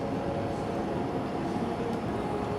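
A Brightline passenger train sits at a station, giving off a steady broadband hum and rumble that holds level throughout with no clear voices over it.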